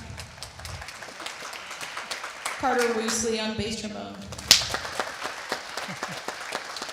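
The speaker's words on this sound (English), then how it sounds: "Yes, you can clap." An audience claps in scattered bursts at a church worship service while a brass group is introduced, the applause running under a man's spoken introductions.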